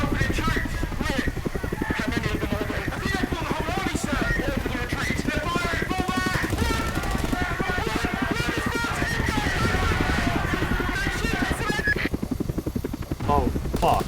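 Several Chinook helicopters in the flight combat game Project Wingman, a constant loud rotor and engine drone with steady throbbing and shifting tones, continuous throughout the clip.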